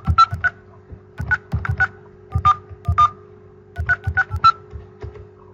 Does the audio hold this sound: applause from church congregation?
no